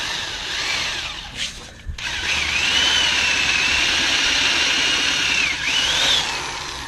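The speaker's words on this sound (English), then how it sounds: "That way the drill bit can actually dig into that" A power drill whines steadily at close range, pausing briefly near the start, then grinds on with a pitch that rises and dips as it bites into a metal rivet in a 1995 Chevy Silverado door.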